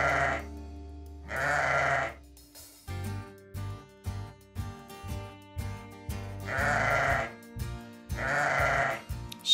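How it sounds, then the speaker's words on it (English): A sheep bleats four times, with two long calls, a pause filled by bouncy backing music, then two more loud bleats close by. "Sheep."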